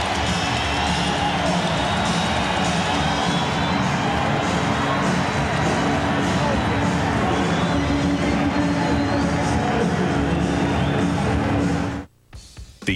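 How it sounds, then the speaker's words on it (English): A basketball crowd in a Charlotte arena roars steadily during an NBA playoff game between the Bulls and Hornets, a dense, loud, continuous din that drops away abruptly near the end. "listen to the crowd. He's got them excited and on their feet here in Charlotte"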